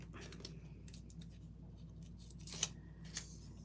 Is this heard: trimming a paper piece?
yes